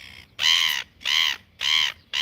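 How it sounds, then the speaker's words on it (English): Gulls near food in Oamaru call loudly and close in three or four harsh, evenly spaced squawks, each about half a second long, with no voices over them. "When you have food in Oamaru, the seagulls attack you."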